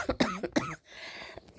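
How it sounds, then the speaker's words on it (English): A few sharp coughs close up, followed by a short breathy pause. "Excuse me for coughing."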